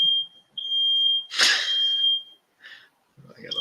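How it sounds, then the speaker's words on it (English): A household smoke alarm goes off in another room, a loud steady high-pitched electronic tone that sounds in bursts with short breaks, overlaid at one point by a brief noisy sound. "I got an alarm going off out there."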